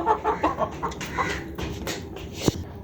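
Aseel chickens cluck in short, scattered bursts close by, with a sharper squawk near the end and no voices.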